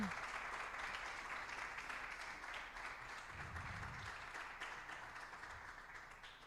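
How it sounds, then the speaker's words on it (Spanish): Faint, distant applause from a crowd, a continuous wash of clapping that fades slightly toward the end. "Le damos un aplauso grande al Señor y fuerte."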